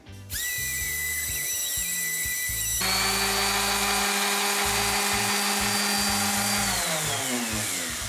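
An orbital sander runs on a wooden kitchen worktop, a loud steady electric whine that shifts pitch as it presses into the wood, held continuously close up with no talking.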